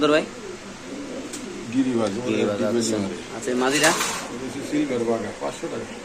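Racer pigeons coo softly at a market stall in a low, rolling murmur, while people talk nearby and a few clatters sound in the background.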